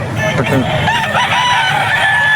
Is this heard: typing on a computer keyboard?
no